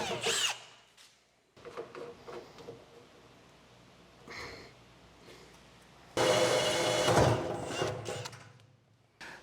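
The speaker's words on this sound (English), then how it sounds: "I'm going to drill some holes out" A power drill whirs in several short bursts with pauses between, ending in a longer, louder run as the bit bores holes through a solar power system enclosure.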